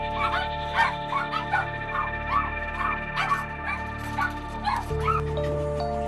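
Several dogs bark and yip in a dark, abandoned puppy mill, a run of sharp, moderately loud barks with whimpering yips in between, echoing close by.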